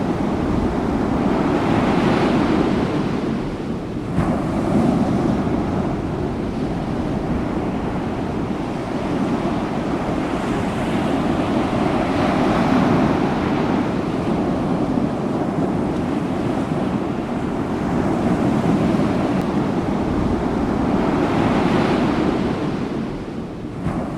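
Ocean surf rolls continuously onto a beach, a dense, loud roar of breaking waves with wind buffeting the microphone, swelling and easing gently throughout with no voices.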